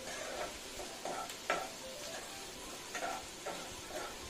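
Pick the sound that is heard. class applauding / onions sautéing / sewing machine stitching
onions sautéing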